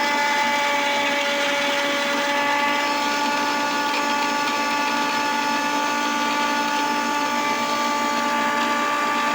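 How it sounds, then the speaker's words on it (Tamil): A mixer grinder runs loudly and without pause, its motor whining at a steady high pitch the whole time. "நம்ம மிக்ஸி ஸ்டார்ட் பண்ணிடலாம்."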